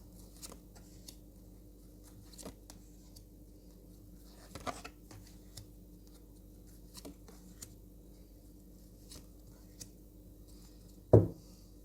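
Tarot cards shuffled in a quiet room, sparse faint riffles and taps spread across the stretch, ending in one louder burst of cards being shuffled up close.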